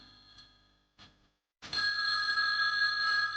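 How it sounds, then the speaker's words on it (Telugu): A telephone rings in an indoor household scene from a Telugu TV serial, a steady bright electronic ring that starts abruptly after a few soft bumps and continues loud and sustained to the end, with no talking over it. "రామా, వెళ్ళి ఆ ఫోన్ చూడు."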